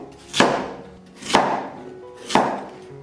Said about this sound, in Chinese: 再准备一根萝卜，给它切成滚刀块。